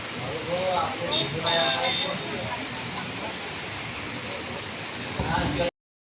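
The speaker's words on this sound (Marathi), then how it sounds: "मस्त पाऊस पडतोय" Steady rain patters and hisses throughout in Jalna, India, with muffled voices talking faintly underneath it.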